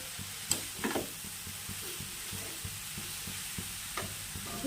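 Grated carrots frying in ghee for village-style gajar halwa give a soft, steady sizzle, broken by occasional scrapes and taps of a spoon against the pan.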